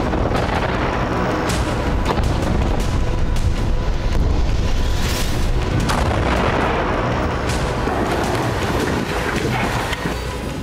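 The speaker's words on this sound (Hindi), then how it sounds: "टैंक खान यूनिस की गलियों में उतरकर गोले बरसा रहे हैं" Tank shelling and bombing in the streets of Khan Younis, Gaza, make a dense, continuous rumble of booms and blasts with sharp repeated cracks, loud and sustained throughout.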